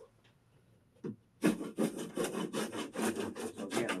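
A roller tool rolls a fabric panel flat against drywall while installing an acoustical wall finish: a short knock, then a rapid, rhythmic scraping rub that repeats a dozen times at close range.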